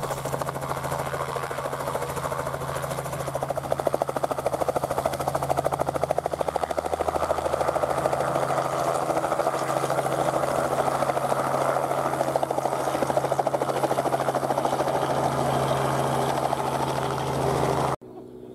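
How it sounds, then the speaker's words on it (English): A helicopter sits with its rotors running at a busy open-door airfield event, giving a loud, steady rhythmic chop with a constant engine whine that carries on under faint talk until it cuts off abruptly near the end. "The helicopter was doing trips of about 5 minutes, with a rotors running change of passengers each time."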